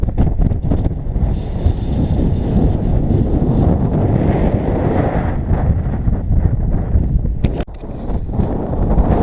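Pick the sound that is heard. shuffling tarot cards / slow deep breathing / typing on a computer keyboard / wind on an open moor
wind on an open moor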